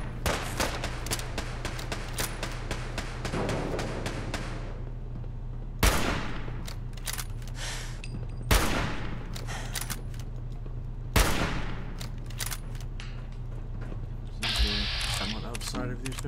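Gunfire in Fallout 4, with bursts of rapid automatic shots and several sharp, loud single reports over a steady game background, plus talk in between.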